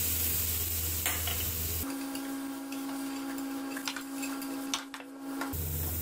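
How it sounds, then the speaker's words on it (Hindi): Tomatoes drop into a hot pan of seasoned filling for a chicken club pastry sandwich, and a steady sizzle sets in as they fry, with a few faint clinks and stirs, no voices. "इस पॉइंट पर हम इसके अंदर टमाटर डालने लगे हैं जी।"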